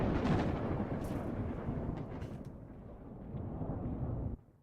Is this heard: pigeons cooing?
no